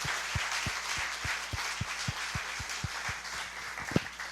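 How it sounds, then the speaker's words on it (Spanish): A church congregation applauds in a steady, faint wash of many hands, with a rhythmic low thumping beat running evenly underneath. "Dele un aplauso a Dios."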